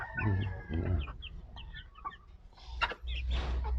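Chickens cluck and squawk close by in short bursts, with a louder rooster call near the end and some low background rumble.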